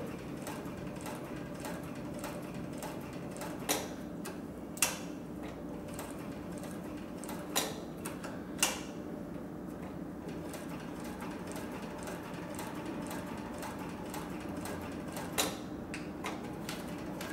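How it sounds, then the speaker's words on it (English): A cylinder-bed compound-feed leather sewing machine runs quietly, giving a low, steady mechanical hum with soft rhythmic ticking and a few sharper clicks. "So the machine's very, very quiet when it runs"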